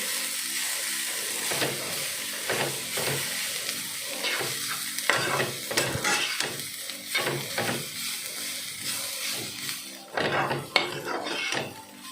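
Grated coconut roasts in a pan for a Goan tonak with rhythmic scraping and stirring strokes of a spoon against metal, under a light continuous sizzle, close and steady throughout.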